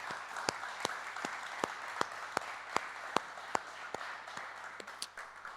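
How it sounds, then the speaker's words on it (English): A festival audience at a creative scratch night gives a quiet round of applause for the mentors, soft and somewhat distant, with a few sharp individual claps standing out at a steady pace. "We just hear a round of applause for them as well, please."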